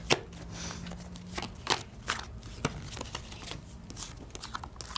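Board game cards dealt out three per person during a Pandemic Legacy Season 2 session, a series of quick papery flicks and slaps at close range over a low room hum.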